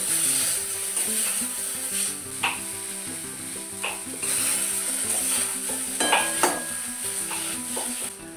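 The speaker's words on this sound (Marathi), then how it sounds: "आता या कढईमध्ये हे भोपळ्याचं वाटलेलं टाकून घ्यायचं आहे। आता ह्याला परतून घेऊ।" Ground red pumpkin paste sautéing in a kadhai makes a continuous close sizzle, broken by repeated scraping stirs and a few sharp spoon clinks against the metal.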